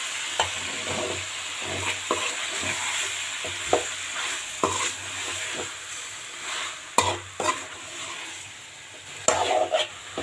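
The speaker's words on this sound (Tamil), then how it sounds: "நம்ம சிக்கனை போட்டுட்டு நல்லா வதக்கிடலாம்." Chicken sautéing in oil with onion and tomato in a single pot: a steady sizzle and frying hiss under repeated scraping stirs of a spoon against the pot, close and continuous.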